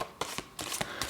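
Overhand shuffling of a tarot card deck, a series of about five sharp papery riffling bursts in an uneven rhythm, close and clear with brief gaps between them.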